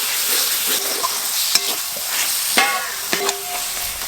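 Spices with chopped tomato, salt, chili, turmeric, cumin and coriander powder frying in a pan, sizzling steadily while a spoon stirs and scrapes with occasional metallic knocks.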